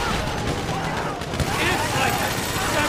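Gunfire during a bank robbery in GTA 5, a continuous barrage of rapid shots and blasts filling the whole stretch, loud and dense, with voices mixed underneath.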